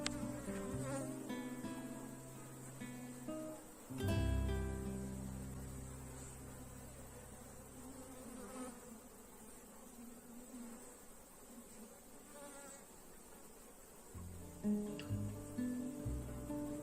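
A honey bee swarm being split into two colonies buzzes in a continuous, faint drone. A dull thump and some soft handling knocks sound partway through.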